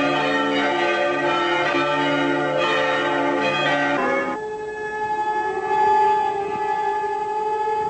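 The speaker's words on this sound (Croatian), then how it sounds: "U cijeloj Hrvatskoj oglasile su se i sirene." Civil defense sirens wail across Croatia during the 1999 mourning for the president; tolling church bells fade out and give way to a steady, distant siren tone that holds on with no talking.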